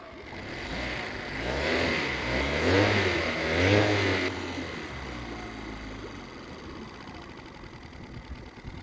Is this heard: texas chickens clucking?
no